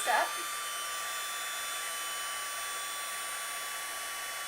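A heat gun melts embossing powder on a handmade card, a steady, close, loud blowing whir that holds unchanged from start to finish after a brief initial bump.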